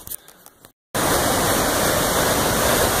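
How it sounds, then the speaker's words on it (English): Loud, steady roar of a big raging waterfall beside the Appalachian Trail, cutting in after a brief gap of quieter outdoor sound and then rushing on continuously and close, with no talking. "that's the biggest waterfall I've ever seen"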